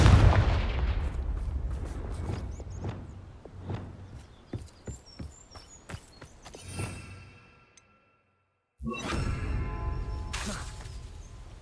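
A Confringo fire spell is cast in the video game Hogwarts Legacy, giving a run of crackling, bursting blasts and booms, then a brief silence before a loud rumbling swell of noise returns.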